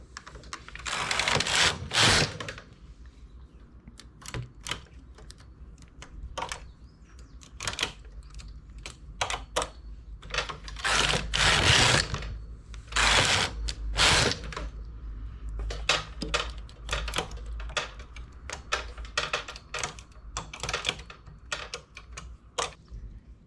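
Flatbed knitting machine with tuck setting engaged, carriage sliding right to left over the needle bed: repeated loud rattling, clattering passes of broadband mechanical noise in bursts, some long and sustained, others short and sharp, with no talk.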